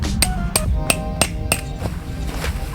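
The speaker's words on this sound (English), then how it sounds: "I am going to be using my Schrade SCA Axe 2 to hammer this in" Sharp metallic hammer strikes from the hammer back of a Schrade SCA axe ring out at a steady rhythm, about seven blows driving a tent stake, each with a bright clanging ring.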